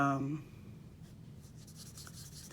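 An ink marker scribbles across card paper to color a large area, a soft, steady scratchy rubbing that runs close and quiet after a brief voice at the start.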